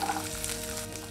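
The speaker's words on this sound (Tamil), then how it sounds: "இஞ்சி இதையும் சேர்த்து வதக்கி விட்டுக்கலாம்." Soft, steady sizzling of onion, garlic and ginger sautéing in hot oil in a pan, quiet and continuous.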